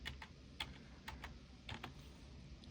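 Keystrokes on a computer keyboard, a handful of separate clicks and short bursts spread irregularly over a quiet low hum, close and fairly faint.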